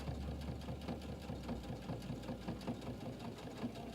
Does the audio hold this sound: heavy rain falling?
no